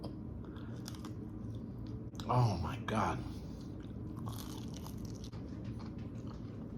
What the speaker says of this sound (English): Did you hear how freaking crunchy that is?